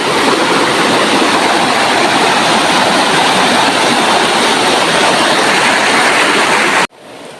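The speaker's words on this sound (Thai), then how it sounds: "เสียงน้ำไหลครับผม" A forest stream's flowing water, a loud, steady rushing hiss close to the microphone that runs unbroken before cutting off abruptly near the end.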